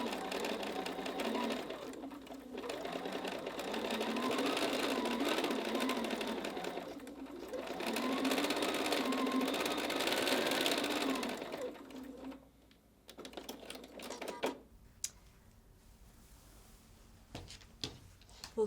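A sewing machine runs steadily stitching reinforcement along a seam of a jelly roll fabric tote, two long continuous whirring runs close up, then stopping into quieter handling clicks.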